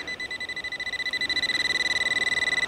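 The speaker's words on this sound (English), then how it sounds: "you can hear that pinpointer going off" A metal detecting pinpointer goes off on a beach during a hunt with a Nokta Legend and LG15 coil, sounding as a steady, rapid pulsing beep at moderate level that keeps going without a break.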